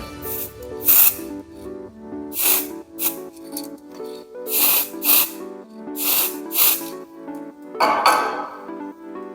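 Ceramic anti-spatter spray from an aerosol can is applied in several sharp hissing bursts onto a cold welding torch nozzle, with faint clinks of metal between sprays.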